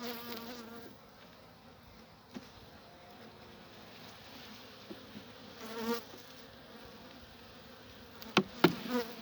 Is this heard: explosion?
no